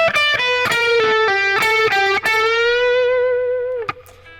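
Electric guitar played slowly through the opening lick of a solo, a bluesy run of distorted picked notes ending in a long sustained bend that fades, loud and close.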